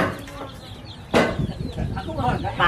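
A chicken clucks close by against a busy birthday party background, with a sudden sharp burst partway through and scattered voices around.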